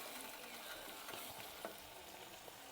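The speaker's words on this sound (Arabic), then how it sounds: "قبل ما البصل يتحمر جنبي هنا" Onions frying in a pan on a home stove, a steady close sizzle with occasional soft stirring scrapes throughout.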